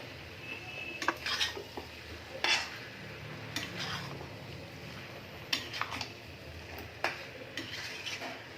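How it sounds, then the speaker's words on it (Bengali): Potatoes stirred in a pan for potato dum, a utensil scraping and clinking against the metal in irregular bursts over a faint low sizzle, fairly close with no talking. "আলুগুলো দেওয়ার পর আমি ভালো করে কষিয়ে নেব।"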